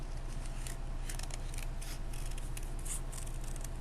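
Scissors snip through paper cutting organic Matisse-style shapes, a quick series of close crisp cuts over a low background hum.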